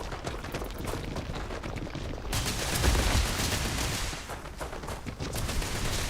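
Gunfire in Starfield during combat with an enemy, rapid dense shots rattling close and loud, continuing steadily for several seconds with a sharper burst near the middle.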